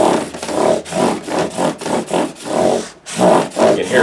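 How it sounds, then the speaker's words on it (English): Strokes of 600 grit sandpaper on a Martin rosewood guitar after fret removal, a steady run of about nine close, even back-and-forth rubbing passes with a brief pause near the end. "Here's my 600 grit. I'm sure even the camera picks up the sonic difference between 400 and 600."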